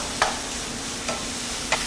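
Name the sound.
shiitake mushrooms stir-frying in garlic oil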